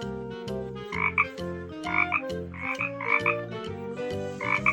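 A frog croaks in a steady, repeating rhythm, each call a loud, throaty burst over a low sustained drone, heard close and alone with no voices.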